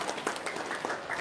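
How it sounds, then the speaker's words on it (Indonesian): Brief applause from a small group, a few scattered claps at moderate distance, short and fairly soft. "tepuk tangan dong"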